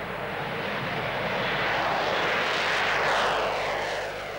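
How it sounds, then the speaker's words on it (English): Avro Vulcan XH558 bomber taking off with its four Rolls-Royce Olympus jet engines at full throttle, a loud, continuous broadband roar that swells and sweeps as the aircraft passes close by. "Four Olympus engines throttled up, and at 160 miles an hour, the moment of truth."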